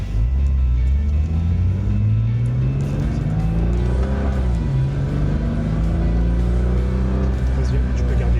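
A Nissan GT-R accelerates hard on a test drive, its engine note climbing steadily through the gears, loud and close from inside the car, with people talking over it.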